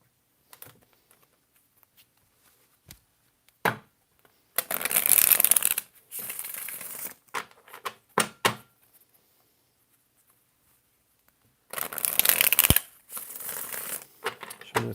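Tarot cards get shuffled by hand in two long riffling bursts, with scattered taps and card slaps between them. The sound is close and crisp against a quiet room, and nobody speaks.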